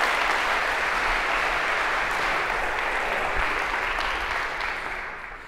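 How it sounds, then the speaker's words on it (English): Sustained applause from a lecture hall audience as volunteers come up on stage, steady and dense throughout and tapering slightly at the end, with no talking over it. "A round of applause for our volunteers."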